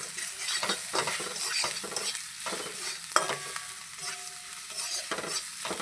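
Spices with Kashmiri chili powder being stirred in a hot frying pan: repeated scraping strokes of a spoon against the pan over a continuous oily sizzle, close and fairly loud.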